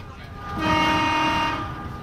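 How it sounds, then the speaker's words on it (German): An Odakyu Super Express train in Japan, bound for Tokyo, sounds a steady, sustained horn tone that swells for about a second over the low rumble of the moving train. "Ein Odakyu Super Express VSI in Richtung Tokio."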